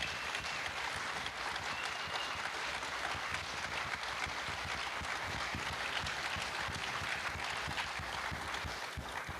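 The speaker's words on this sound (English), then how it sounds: "And another huge round of applause for our organizers." A conference crowd at a Python event's closing session gives a sustained round of applause for the organizers, broad and even clapping from many hands continuing unbroken for nine seconds.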